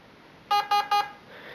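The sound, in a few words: three beeps from airsoft mosfet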